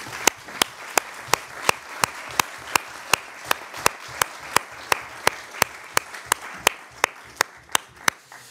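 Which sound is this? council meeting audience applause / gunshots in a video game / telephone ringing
council meeting audience applause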